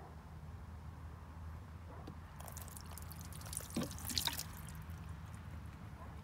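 Water dripping and splashing onto a tire coated with tire shine: faint, scattered droplet patters and a brief splashy burst midway over low background hum.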